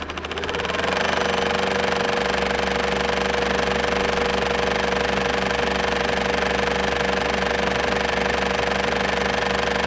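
A motion picture film camera running at 24 frames per second, starting up and then whirring steadily with a loud, dense mechanical rattle that continues unbroken for about ten seconds, close by and alone.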